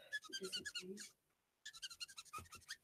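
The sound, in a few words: squeaky coloring marker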